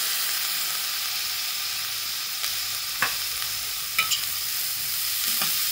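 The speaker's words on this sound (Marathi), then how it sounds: "हलवून घ्यायचे भाजी चांगली." Soaked moong beans fry in a pan for a dry bhaji, with a continuous bright sizzle and a few soft clicks and scrapes as they are stirred, close and without talking.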